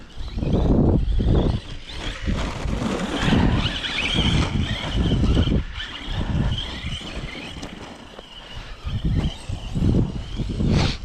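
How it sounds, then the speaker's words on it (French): Gusty wind buffeting the microphone in uneven rumbling bursts, rising and falling throughout, with faint airy hiss above. "Ah, le petit vent"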